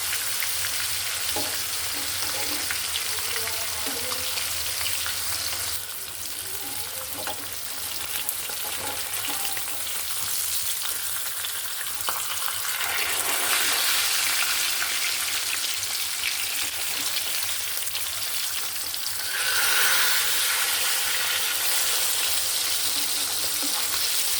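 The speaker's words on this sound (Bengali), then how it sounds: "মাছ ভাজাটা আমার হয়ে গেছে।" Fish frying in a pan at home, with a loud continuous sizzle and crackle of hot oil that swells and eases over about 24 seconds, with occasional stirring sounds and no talking.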